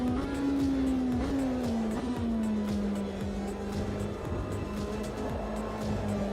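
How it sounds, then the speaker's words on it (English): A race car drones at around 188 mph in the racing game AMS2, with a loud, continuous engine tone that holds steady and dips slightly, plus faint tire and wind noise. "Warming up my tyres at 188 miles an hour."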